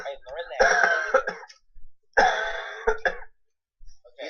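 A person coughs and clears their throat close to a podcast microphone in two loud, rough bursts separated by a short pause.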